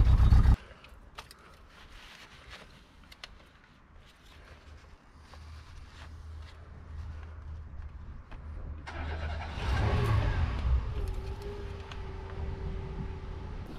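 An engine cranks and starts, idles low and steady, then revs up sharply to a louder roar before settling into a higher running note, heard close and alone.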